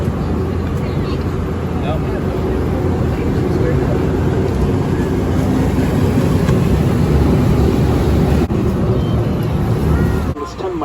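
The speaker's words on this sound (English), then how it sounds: "Jet boat's back, guys." A jet boat on the Wisconsin River roars past, a loud, continuous broadband rush heard from another boat over wind buffeting, with brief talk nearby.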